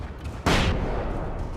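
A sudden loud flashbang blast goes off in the Alan Wake video game, a single sharp burst that then trails off into a sustained rumbling wash.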